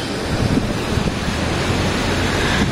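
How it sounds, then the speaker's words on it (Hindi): Water rushes steadily far below in Solang Valley near Manali, beside a long zip line: a continuous, fairly loud broadband roar with wind-like hiss and no breaks. "नीचे पानी बह रहा है"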